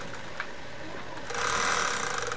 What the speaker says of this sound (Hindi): तो इस तरह से देखिए डबल सिलाई लगाएंगे